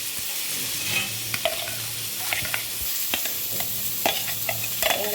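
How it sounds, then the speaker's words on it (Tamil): Vegetables sautéing in a pan, a steady close sizzle with scattered clicks and scrapes from stirring throughout, no voices. "இது நல்லா வதங்கிட்டு இருக்கட்டும்."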